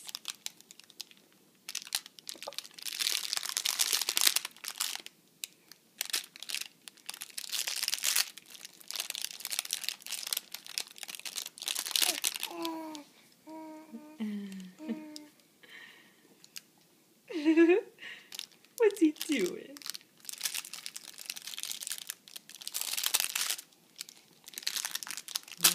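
A baby crinkles and crumples paper at home, giving bursts of loud close crackling and rustling with pauses between them. An adult talks to the baby, and there are a few short babbling sounds.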